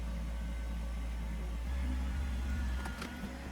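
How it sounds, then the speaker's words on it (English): A tractor engine idles and then revs up as it pulls on a rope tied to a rotten, leaning tree, a steady low rumble that swells for a moment before settling back. "We'll hook it to the tractor and give it a pull."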